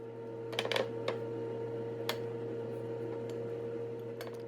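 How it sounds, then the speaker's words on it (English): A steady air fryer hum with a faint whir runs throughout as it heats up, broken by a few sharp ticks and clicks close by. "That is the sound of the air fryer heating up."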